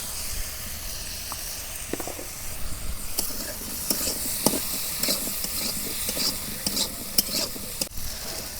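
Potatoes fry with a steady sizzle and hiss in a pan while a village-style rohu fish curry is being made. A utensil stirs and scrapes at irregular moments, with no talking.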